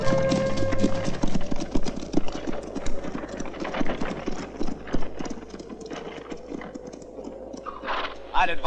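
Horses' hooves clip-clop in a western, a steady run of light knocks mixed with a low engine-like rumble and background voices, fairly close and continuous.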